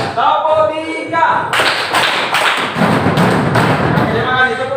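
Students in a class clap together in a rhythmic clap game, a run of sharp, loud collective claps in a quick pattern, framed by a voice speaking briefly before and after.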